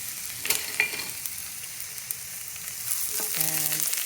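Garlic, onion and scotch bonnet pepper fry in a pan with a loud, steady sizzle, a few clinks early on and a short tonal clatter near the end, and no voices.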